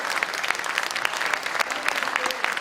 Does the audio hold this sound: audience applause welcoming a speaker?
yes